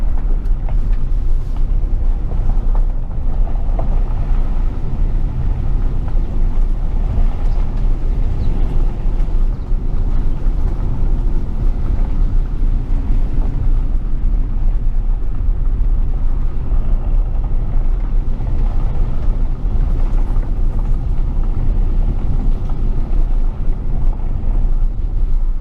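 A Jeep Renegade Trailhawk's small turbo engine drones steadily at a constant cruising pace on a rough road, loud and close, with a continuous low rumble and no talking.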